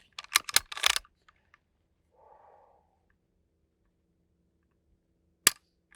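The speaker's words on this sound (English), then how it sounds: "I'm going to shut up and dry fire." A few quick handling clicks open the recording, then after a long quiet pause a single sharp trigger click rings out close by as a gun is dry fired from a kneeling shooting position.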